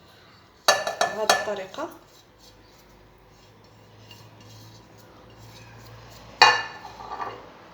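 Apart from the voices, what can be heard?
spoon clinking while adding a teaspoon of cumin to cloves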